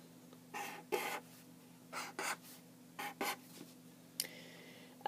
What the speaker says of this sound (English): Okay, I'm going to draw a tree.